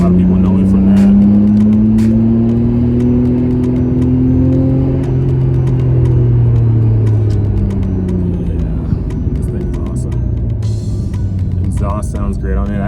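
An R32 Skyline GTR idles and revs nearby, its engine and exhaust drone sliding up and down in pitch with a solid, steady rumble, while someone talks over it.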